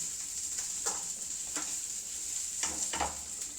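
Ginger stir-fried in a hot pan for chicken biryani: a steady bright sizzle throughout, broken by a few scraping strokes of a spatula stirring against the pan.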